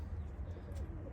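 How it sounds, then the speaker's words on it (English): Faint, soft cooing from roller and racing pigeons in a backyard loft, heard under a low steady hum with no talking. "there's my funny looking pigeons"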